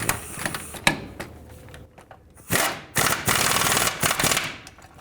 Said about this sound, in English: 17 millimeter wrench on the nut and 19 socket on the bolt side.